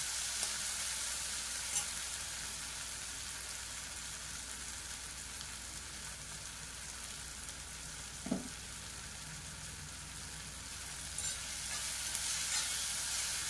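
Potatoes with green chillies fry in a curry: a steady, even sizzle holds throughout with no talking, broken only by a soft knock of a utensil against the pan.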